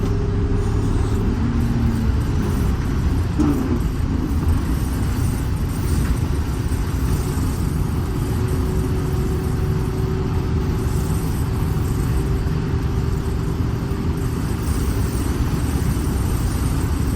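Rebuilt bus engine pulling steadily uphill, a constant low droning rumble with road noise, even and unbroken throughout, heard from inside the vehicle.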